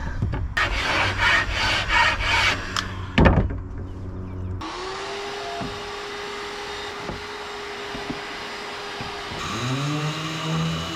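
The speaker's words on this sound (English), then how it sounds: "we'll finish up the scraping" Rough rasping as a wooden boat deck is scraped, loud and steady at first, then giving way to a constant motor hum with occasional knocks.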